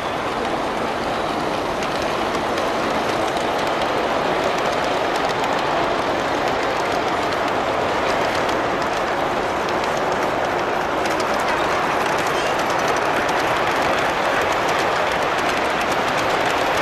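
A G-scale model train runs on a garden railroad at a train show, giving a loud, steady rumble and rolling clatter that continue throughout under the noise of the hall.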